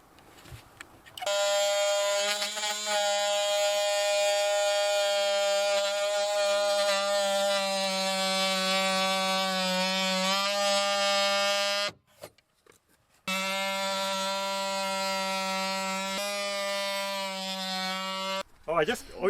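A power tool blade cuts through fiberglass with a loud, sustained buzzing drone that runs for about ten seconds, drops out briefly, then resumes steadily before stopping near the end.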